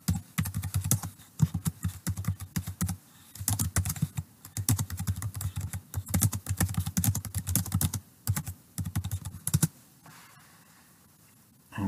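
Fingers type on a computer keyboard in rapid bursts of close, crisp key clicks separated by short pauses, ending in a quiet stretch, with no voices.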